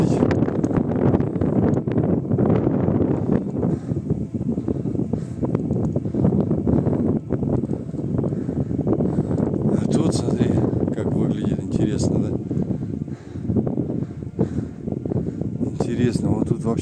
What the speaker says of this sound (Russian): Тут ветер сильный.